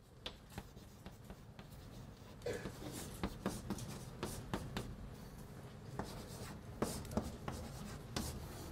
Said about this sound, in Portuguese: Dizemos que, eu vou escrever direto aqui